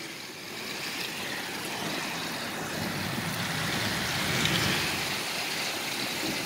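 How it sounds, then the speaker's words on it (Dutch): Heavy thunderstorm rain in Zuidwolde pours down in a steady, loud, broadband hiss that swells slightly midway, with no talk over it. "De regen is ook een stuk harder geworden."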